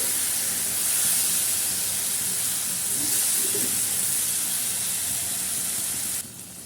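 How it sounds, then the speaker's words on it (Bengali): Chicken pieces fry (bhuna) in a pan, giving a steady close hiss and sizzle throughout that drops slightly in level at the very end. "এভাবে খুব ভালো করে মাংসগুলো ভুনে নিতে হবে দেখুন মাংসগুলো ভুনা বা কষা হয়ে গেছে"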